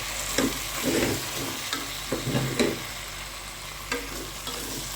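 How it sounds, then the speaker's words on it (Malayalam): Beef being stirred in a hot pan with salt for a country-style beef dish, a steady sizzle broken by several scraping, clattering strokes of a spoon at irregular intervals, close and moderately loud with no talking. "നന്നായി ഇളക്കുക ഇളക്കി കൊടുക്കുക"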